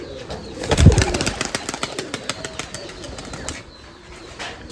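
Giribaz pigeons at a large pigeon farm, with a burst of wing flapping near the start followed by repeated soft coos and rustling over a busy background.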